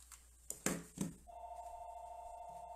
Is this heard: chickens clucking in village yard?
no